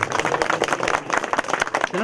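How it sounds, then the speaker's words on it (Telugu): A village crowd claps together at an auspicious ceremony, with dense, uneven hand claps running steadily throughout and mixed with nearby voices. "చప్పట్లు కొట్టాలందరూ కూడా."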